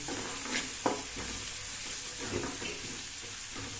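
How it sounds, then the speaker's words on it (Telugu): Steady sizzling of tempering spices for upma in hot oil with a few scraping stirs, close and continuous, no voices. "ఎక్కువ తాలింపు వేగిన తర్వాత లాస్ట్లో కరివేపాకు వేస్తాం"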